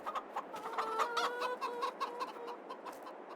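Steady clucking from a group of chickens in the video game Farming Simulator 22, overlapping soft clucks in an irregular rhythm, continuous throughout with no talk.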